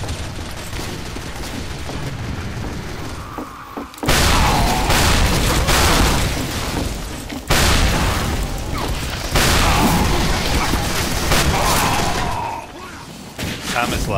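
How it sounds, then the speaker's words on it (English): Team Fortress 2 match in full swing: dense bursts of gunfire, booms and mechanical clatter pile up loudly in waves, pausing briefly before resuming, with a voice talking underneath the battle noise. "A bunch of bullets flying."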